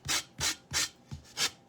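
Five even back-and-forth rasping strokes of hand sanding on wood, close and rhythmic.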